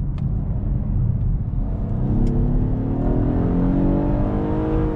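A 2020 Acura TLX A-Spec engine pulls hard under acceleration, a loud steady drone whose pitch climbs continuously across the run, with dense rumbling low end and no talk over it.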